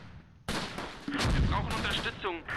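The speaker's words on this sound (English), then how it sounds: "Mortars are homing in pretty close over here." Mortar fire in the Close Combat World War II strategy game, set around St. Mauvieu in 1944: heavy explosive blasts and rumbling impacts that burst in suddenly and stay loud and dense for a couple of seconds.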